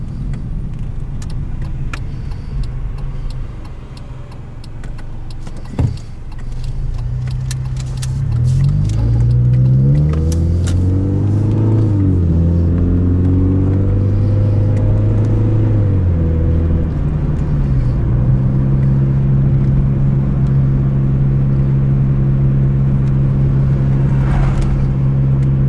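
A car drives steadily throughout, its engine a continuous loud rumble with gear changes and pitch rising and falling as it accelerates, plus a brief knock near the start and no talking.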